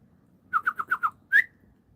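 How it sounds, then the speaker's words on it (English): Bird song outdoors among trees: a quick run of five clear, close chirps followed by one longer, slightly higher note, then quiet. "Listen to these birds, they sound beautiful."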